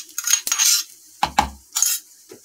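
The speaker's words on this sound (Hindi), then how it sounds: "अच्छे से फिर से मिक्स करूंगी मैं" A spoon mixes a paste into tempered mustard seeds and curry leaves in a pan, making several close metallic scrapes and clinks in short uneven bursts with brief quiet gaps between.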